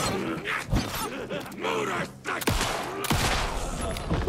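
Crossbow shots and mechanism clatter in Alan Wake 2, a burst of sharp cracks and creaking thumps packed close together amid busy combat noise, with no talk.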